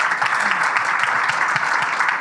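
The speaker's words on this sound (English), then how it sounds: "I think we should give you a hand of applause for that." An audience at a public diplomacy panel discussion applauds, a steady wash of many hands clapping at moderate volume throughout.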